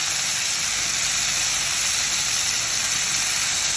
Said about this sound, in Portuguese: Vamos deixar ele fritar um pouquinho